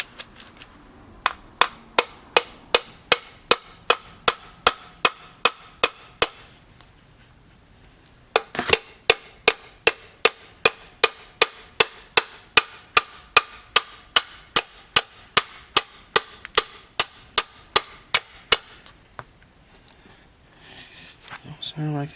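Sharp metal hammer taps on a shaft of a 1989 Dodge Daytona ES salvage-yard car, two long runs of evenly spaced loud strikes about three per second, a brief pause between them, close and ringing.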